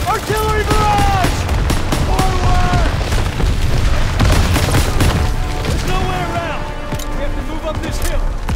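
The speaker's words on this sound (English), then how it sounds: "Artillery barrage!" Artillery barrage in the World War II shooter game Call of Duty: WWII, with continuous heavy booms and gunfire rumbling loudly throughout, mixed with shouted voices and music.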